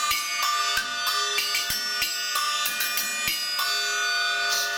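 An accent chime bell mounted on top of a hi-hat on a drum kit rings with bright, sustained metallic tones, struck repeatedly in a quick rhythm among crisp cymbal and drum hits.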